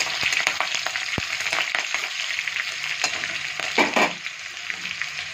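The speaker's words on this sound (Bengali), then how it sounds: "কাঁচা লঙ্কা কুচি দিয়ে দেবো। দেখুন, আমি ভেজে নেবো।" Chopped green chillies frying in a hot pan for sambar, a steady bright sizzle with crackling pops and a louder spitting burst near the end, close and continuous with no talk.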